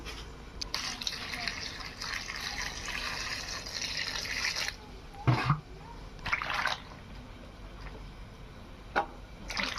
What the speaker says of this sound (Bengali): লাউটা কাটা হয়ে গেছে, এখন ভালোভাবে ধুয়ে নেব।